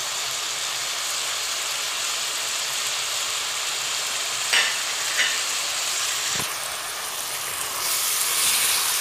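Carrots, garlic, black pepper, turmeric and salt sauté for a tajine with a loud, steady sizzle and hiss, broken by a few utensil clinks and stirring sounds.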